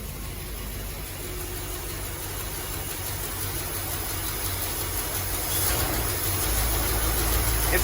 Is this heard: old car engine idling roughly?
yes